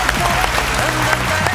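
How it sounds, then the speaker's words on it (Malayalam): A comedy show audience claps steadily in a loud, dense burst of applause with no pauses across the short stretch. "ഈ കൈയടി പോരാ, നല്ല ഉഗ്ര കൈയടി വേണം."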